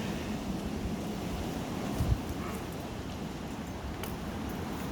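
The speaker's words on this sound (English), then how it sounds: "We are having a wind advisory, and Mozzie decided he wants to go outside" Strong wind during a wind storm, with wind-advisory conditions among tall pine trees: a continuous broadband roar and rush that stays steady throughout, with one brief low thump midway and no voices.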